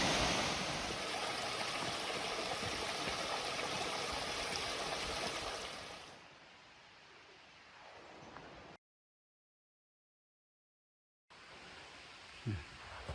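Red-tinted stream water falling at Dolly Sods, a loud continuous rushing splash that drops to a quieter trickle midway, cuts out briefly, then returns.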